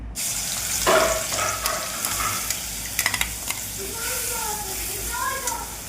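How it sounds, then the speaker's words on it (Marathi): Sizzling hiss of ground masala paste frying in two spoons of hot oil in a kadhai, with scraping stirs and a few sharp clinks of a spoon against the pan. "कढईमध्ये 2 चमचे तेल घेतलं. ते वाटण तेलात परतून घेऊ आपण."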